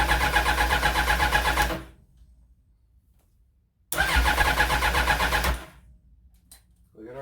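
A Suzuki Bandit 1200 motorcycle engine fitted with a Microsquirt ignition setup fires and runs loudly at close range for about two seconds. It cuts out, then catches again for a second loud run of similar length before dying to near silence.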